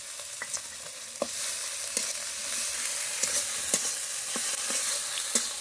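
Onion paste, green chili and ginger-garlic paste fry in a pan as a soft, continuous sizzle, broken by repeated sharp scrapes and taps of a spoon stirring, close by and without speech.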